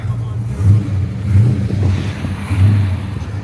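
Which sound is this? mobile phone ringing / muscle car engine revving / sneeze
muscle car engine revving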